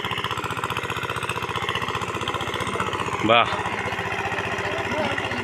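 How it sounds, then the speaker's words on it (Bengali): A motorised country boat's engine chugs steadily in a fast, even, throbbing rhythm throughout, with a short exclamation from a voice partway through. "ওই দেখো মেশিন আলা নৌকা"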